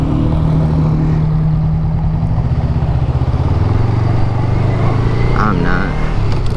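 A Honda Rebel 500 motorcycle carrying two riders cruises along a freeway, its engine droning steadily beneath loud wind rush for the whole stretch, with no voices heard.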